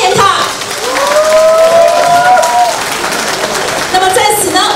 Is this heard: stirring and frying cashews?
no